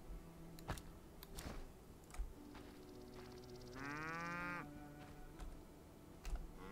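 A cow in The Witcher lets out a single drawn-out moo from the game, heard clearly amid faint clicks and ambient game sounds.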